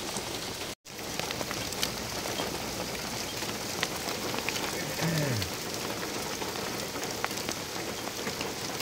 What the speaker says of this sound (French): c'est de la petite grêle